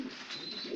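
Pigeons on a farm raising squab and turkey-breed birds give soft, low throaty coos that swell at the start and end of a short moment, steady and fairly close, with no talking.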